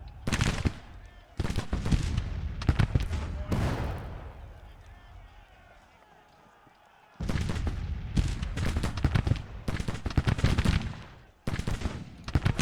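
Massed musket volleys crackle in a Civil War strategy video game, with dense loud bursts of firing, a quieter lull in the middle, then renewed heavy rattling fire.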